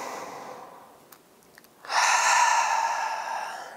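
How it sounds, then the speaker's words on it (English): Breathing while holding a yoga pose: a soft, breathy exhale fades out, a quiet pause with faint clicks follows, then a louder, sustained airy breath rises and holds, close and alone. "Take a few breaths here."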